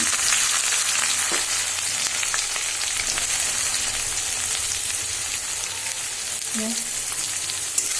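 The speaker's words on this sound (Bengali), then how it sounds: "এখন আমি যে এখানে পেঁয়াজ দিচ্ছি" Onions fry in a pan of oil for a meat curry, giving a steady, even sizzle that holds at the same level throughout, with a faint stir or clink now and then.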